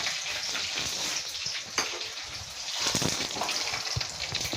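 Ingredients for seafood drunken spaghetti sizzle and hiss steadily in a hot pan, with occasional clinks and stirring scrapes, close up and without talk.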